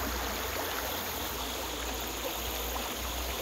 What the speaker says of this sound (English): Down the creek.